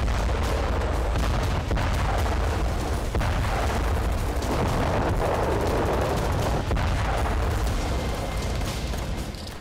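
Gunfire and heavy blasts rumble through streets and buildings during fighting in Khan Younis, a loud, dense, continuous barrage of booms and cracks with no talking.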